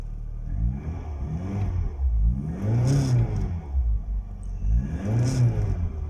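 A Tofaş Doğan 1.6ie car engine is revved three times in succession, each blip rising sharply in pitch then falling back to a rumbling idle, close and loud with no talking.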